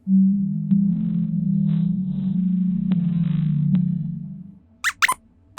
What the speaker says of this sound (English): Here's what a blue whale's song sounds like.